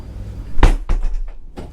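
A heavy, chunky door on a 2021 Horizon FD103 superyacht swings and shuts with a solid thud, followed by a few softer knocks and rattles, close and alone.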